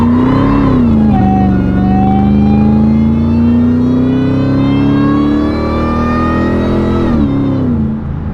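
A 2000 Ford F-150 SVT Lightning pulls away from a standstill, its engine note climbing steadily through a long, loud acceleration before dropping back near the end.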